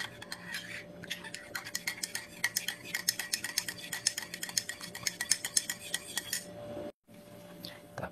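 A spoon stirs coffee in a cup with rapid, steady clinking for several seconds. A faint hum runs underneath, and the sound breaks off briefly near the end.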